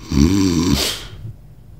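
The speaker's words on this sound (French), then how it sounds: "même ton propre ronflement te réveille." A man gives one loud, throaty snore on a single drawn-out breath, rattling for under a second before fading to quiet.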